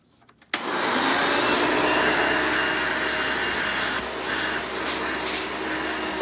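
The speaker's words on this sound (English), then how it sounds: "this is a direct air based vacuum, the suction is pretty abysmal" A Hoover Elite 200 U4467 upright vacuum cleaner with direct-air suction kicks on after a few clicks and runs as a loud, steady, broadband whir that shifts slightly in pitch partway through, with no talk.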